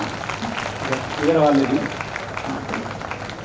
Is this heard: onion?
no